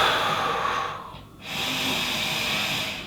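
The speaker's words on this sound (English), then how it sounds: "in through the nose, out through the mouth" Slow, deep belly breathing while holding a frog pose: an audible breath that dips briefly into quiet, then a long, steady, airy exhale follows, close and soft with no talk.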